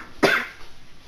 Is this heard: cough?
yes